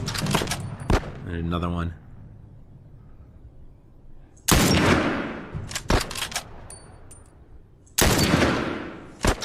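Gunfire from The Last of Us game, with several sharp bursts and loud volleys separated by quieter gaps, and someone talking briefly between shots.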